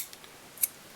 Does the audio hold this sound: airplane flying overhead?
no